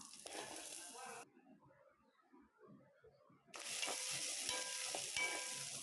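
Shallots and garlic frying in a kadai, a bright steady sizzle that drops away briefly to a faint crackle before returning strongly, close and alone.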